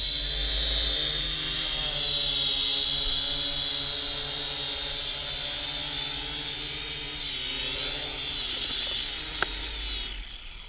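A Syma X5HW quadcopter drone hovering and coming in to land on a landing pad, its high whining rotor buzz steady and close, dipping slightly in pitch as it settles before a small tap at touchdown.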